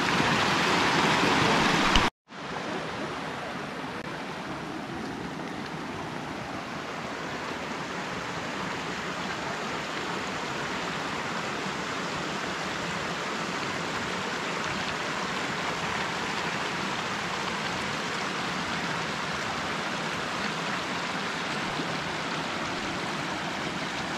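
Rain-swollen runoff flowing down a drainage ditch in the mountains of northern New Mexico, a steady, close, broadband rush of water after a brief loud burst and a cut at the start, with no voices.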